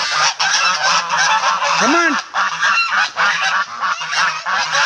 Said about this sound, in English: The geese are over there.